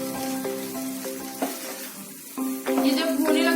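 Grated corn mixture cooks in a pan with a soft, steady sizzle and scraping stir strokes, set against a constant humming tone that pauses briefly midway before returning louder.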